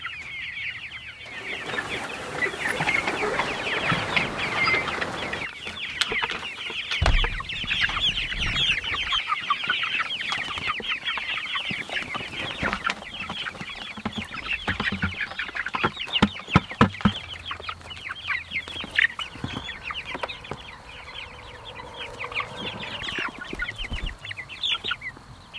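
A flock of homestead chickens clucks and squawks continuously at close range, a busy overlapping chatter of many birds with scattered louder calls, kept in a movable chicken tractor.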